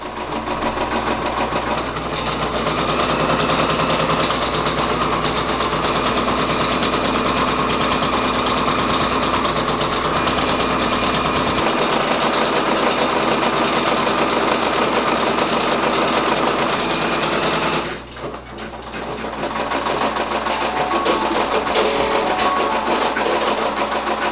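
A Brother Persona embroidery machine stitches blue thread with a steady, loud, continuous whirring hum that holds for the whole stretch, dipping only briefly.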